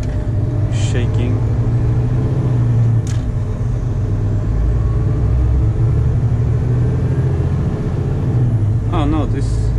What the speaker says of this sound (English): the turbo is so noisy